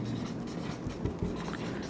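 Pen or chalk strokes write out an English sentence, a soft continuous scratching with short pauses and repeated strokes, close and fairly quiet, with no voice.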